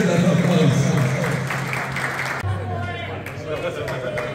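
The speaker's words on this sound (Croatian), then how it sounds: "Hajde, jedan aplauz." Applause for the first-place couple at a folk kolo dance event with a live band in a hotel in Sarajevo, a dense, steady burst of clapping from a close crowd, mixed with voices and music.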